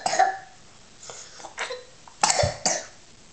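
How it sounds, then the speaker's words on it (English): A young child gives several short, soft coughs indoors, spaced irregularly over a few seconds with slight throaty rasp, close to the listener. "Do you have a cough?"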